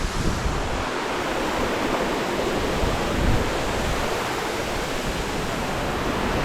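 The 63-metre Maral waterfall in Borçka, Artvin, roars as a loud, dense, unbroken rush of falling water heard up close, steady throughout with no voices.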